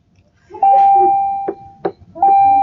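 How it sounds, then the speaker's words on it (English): A school bell rings loudly and close in a classroom, a steady electric tone sounding for a long stretch, broken by a few sharp knocks, then ringing again. "with the bell starting to ring"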